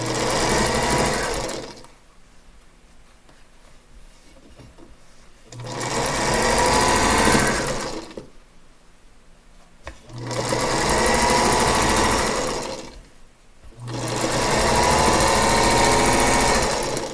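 Domestic sewing machine chain piecing quilt pieces, running in three long steady whirring bursts separated by short quiet pauses, close and loud with no talking.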